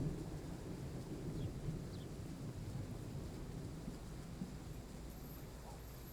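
Train Sim World 3 weather fills the scene with a steady low rumble of thunder and wash of rain, a continuous dull roar with faint wind noise, moderately loud and unbroken.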